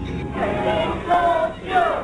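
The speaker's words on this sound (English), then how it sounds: "The crowd started chanting, we told you, we told you, we told you." A large crowd chants a short repeated phrase in unison, three loud swelling rounds in quick rhythmic succession with a massed roar of voices.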